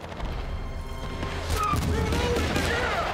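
Battlefield Bad Company battle sounds: a dense rumble of gunfire, rocket launcher blasts and machine-gun bursts, with booms swelling midway and sharp tonal effects layered over the din.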